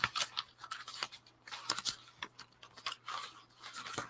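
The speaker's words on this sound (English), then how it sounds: "all this is tea dyed and avocado dyed papers that all make cool sounds, crunchy sounds" Tea-dyed and avocado-dyed papers are crumpled and crunched close up in a quiet room, giving repeated crisp crackling bursts over about four seconds with no talking.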